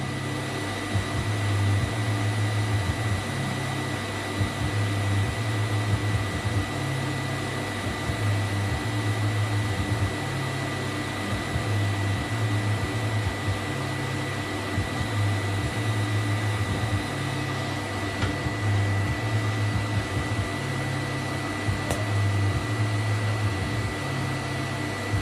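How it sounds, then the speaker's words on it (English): TIG welding with filler rod, joining a flange onto a custom external wastegate in a workshop: a steady electric buzz with a pulsing low hum that runs unbroken throughout, with no talking. "Now we're going to use filler and go around and weld this flange on"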